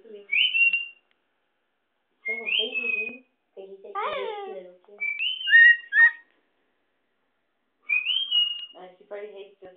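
A pet bird gives short rising whistles and chirps in separate bursts with pauses between them, close and clear, and people talk nearby.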